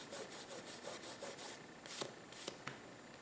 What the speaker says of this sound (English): when you're rubbing off a lot of masking fluid